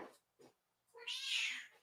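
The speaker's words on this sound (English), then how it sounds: "That's a big meow." Domestic cat meowing loudly, two brief faint chirps followed by one long, strong, drawn-out meow close to the listener, with no talking.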